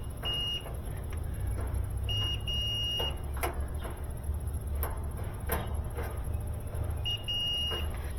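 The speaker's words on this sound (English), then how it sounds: "we do get a beep" Continuity beeps from a multimeter testing components on a Samsung dryer control board, several short high-pitched tones in a row over a steady low hum, fairly faint and close.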